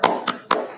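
Three sharp, evenly spaced claps from a class doing a rhythmic spirit clap in a school lesson, each one crisp and loud with short reverberant tails.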